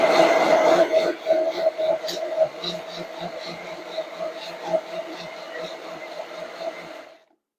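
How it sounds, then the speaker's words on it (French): An immersion blender whirs through a mixture of milk and vanilla bean as a close, steady motor drone with slight wavering, then stops abruptly near the end. "Mixeur plongeant."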